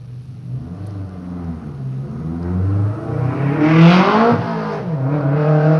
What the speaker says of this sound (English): Martin Radford's on the track now in the Evo 7 Mitsubishi.